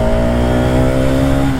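A Hero Xtreme 250R motorcycle of about 30 horsepower pulls hard on a test ride, its engine holding a loud, steady, close droning note.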